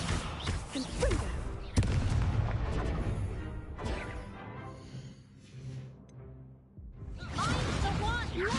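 Fiery Confringo blast spell in Hogwarts Legacy combat: whooshing bursts and booming, artillery-like impacts rise and fade across busy fighting noise, with speech mixed in.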